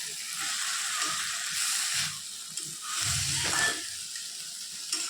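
Bathua greens sizzle in a pan with a bright, continuous hissing fry that swells and eases in waves, with a few soft stirring knocks underneath, close and without any voice.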